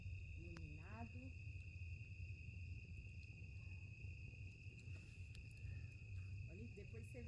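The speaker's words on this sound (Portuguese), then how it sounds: "Olha o grilo cantando, muito grilo" Many crickets chirp steadily through a quiet night at a rural farm during a June bonfire gathering, with a continuous high trilling above low rumble, and a person speaks briefly near the start and end.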